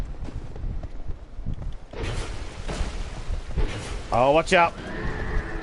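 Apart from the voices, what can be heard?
angry horse in the video game Dark Souls 2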